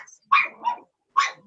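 A puppy gives three short, sharp, high yaps, spaced unevenly and heard close and clear against silence.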